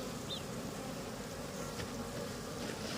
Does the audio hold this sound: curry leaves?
no